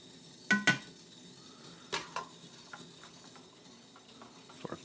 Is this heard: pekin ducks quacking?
no